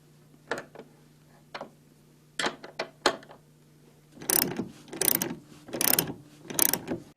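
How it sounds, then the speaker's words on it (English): Bolts being fastened to secure a battery box mount, heard as several separate ratcheting mechanical bursts, short clicks early on and then four longer, louder ratchet runs in steady sequence, close by with no talking. "Position the battery box and secure the bolts into place."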